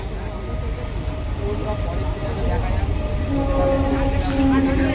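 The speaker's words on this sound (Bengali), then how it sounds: "তো মোটামুটি ট্রেনের একটা আওয়াজ আসছে, বুঝতেই পারছো।" A train passes on a nearby railway line at Memari Kailashpur with a steady rolling rumble that grows slightly louder, while a voice talks over it.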